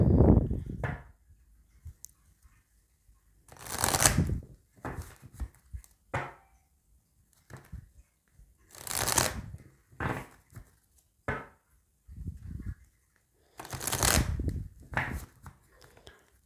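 Oracle cards being shuffled by hand for a tarot-style reading of the Oracle des Miroirs deck, heard as several separate bursts of soft riffling and papery thumps with quiet pauses between them.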